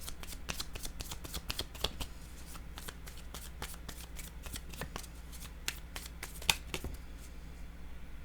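Tarot cards are shuffled by hand in a rapid run of crisp riffling flicks, close and fairly quiet, with no talk over them.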